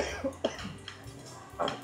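Someone coughs indoors in a house, several short harsh coughs spaced irregularly, close and moderately loud, over a low background hum.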